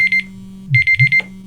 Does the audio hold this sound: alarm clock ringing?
yes